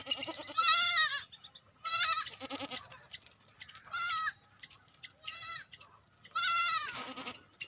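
Kodi goats at a goat farm near Kovilpatti bleat again and again, with about five loud, wavering calls spaced out by short pauses and no one speaking.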